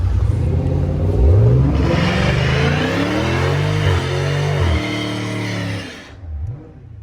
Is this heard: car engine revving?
yes